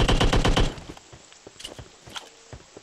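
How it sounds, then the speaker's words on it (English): Rapid automatic gunfire from another player in PUBG Mobile, a loud burst of about a dozen shots in the first second, followed by quieter scattered thumps and footsteps. "You hear that? Because that's not me shooting."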